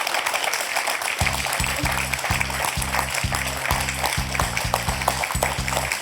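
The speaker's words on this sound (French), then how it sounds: "On peut applaudir Françoise" Studio audience applause for a quiz contestant, Françoise, on a French TV quiz show, steady clapping layered under a bouncy, pulsing musical jingle that kicks in after the first second.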